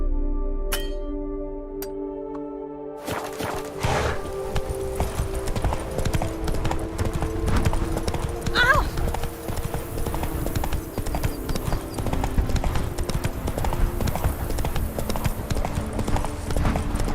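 Hooves of the horse Roach in The Witcher 3 video game, a fast, steady clip-clop gallop starting after about three seconds and continuing loud and close under game music and effects, with a brief whinny-like sound midway.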